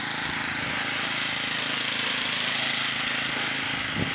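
A snowblower running in waist-deep snow on a road during a blizzard, a steady loud engine drone with rough rumbling, unbroken throughout and close by.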